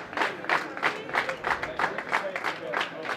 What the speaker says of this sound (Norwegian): Til stor jubel fra tilskuerne som står og ser på her borte